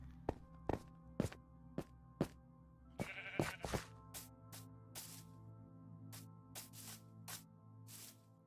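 A sheep gives a short bleat partway through, set among a regular run of sharp thudding steps and knocks over a low steady hum, all quiet.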